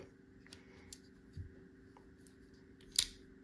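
A few small, crisp metallic snips and clicks from the small scissors of a Roxon Flex pocket multi-tool, close and quiet, scattered over a hushed background, with one sharper snip near the end.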